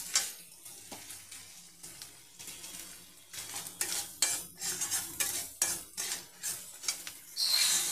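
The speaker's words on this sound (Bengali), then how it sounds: "এই মশলাটাকে আমি 1 মিনিট কষিয়ে নেব।" Spice masala for street-style Kolkata ghugni sautés in a pan, soft sizzling under repeated scraping and clinking strokes of a metal spoon that grow busier and louder toward the end.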